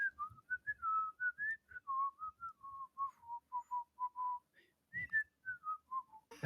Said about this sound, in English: Whistle for me